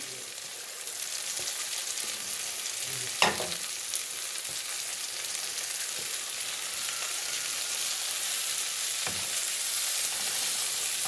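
Finely chopped red and green bell peppers and chillies sizzle steadily in hot oil for a samosa filling, with a continuous frying hiss and a few stirring clinks, and no voices.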